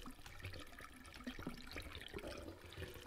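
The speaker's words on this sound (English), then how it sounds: "Yikes, the water. Is the faucet busted?" Water runs from a faucet in the horror game The Crooked Man, a faint, steady splashing and trickling stream with small irregular gurgles throughout.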